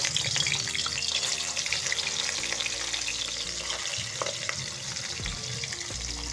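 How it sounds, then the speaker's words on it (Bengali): Fish pieces rubbed with salt and turmeric frying in hot oil in a wok, a loud, dense sizzle and crackle filling the whole stretch, with occasional stirring clatter and no voices. "এদিকে আমার কড়াই তেল গরম হয়ে গেছে এখন মাছটিকে দেব একটু একটু করে"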